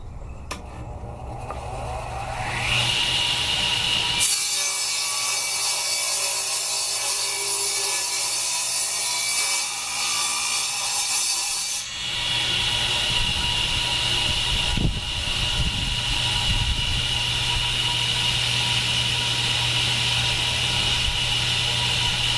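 Table saw cutting through wood while building a crosscut sled, a loud broadband whine that starts after a short spin-up, holds steady for several seconds, then eases into a lower running hum as the blade keeps spinning.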